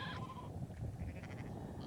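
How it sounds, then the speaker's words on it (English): Sheep huddling together in volcanic ash bleat faintly, with a few short bleats against a low rumble of wind and outdoor noise. "Sheep, some blinded by the ash, are huddling together for shelter."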